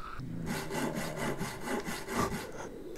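Wood being cut with a saw in the horror video game Panicore, a steady run of about eight rhythmic rasping back-and-forth strokes, close and fairly quiet, with no talking over it.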